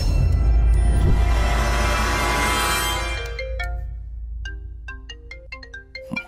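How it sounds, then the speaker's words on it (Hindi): A phone ringtone in a dubbed South Indian film plays loudly in a bright electronic tone, then fades into a sequence of short melodic beeps near the end. "केपी का फोन है, उठाओ ना।"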